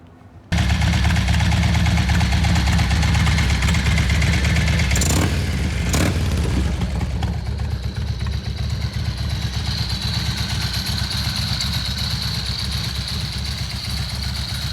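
A supercharged Harley-Davidson FXDX Dyna with a ProCharger fitted rumbles loudly and steadily at close range, a constant deep idle with a couple of brief blips and a whining tone developing partway through.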